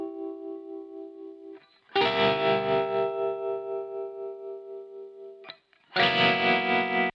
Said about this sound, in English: let's just play that guitar part by itself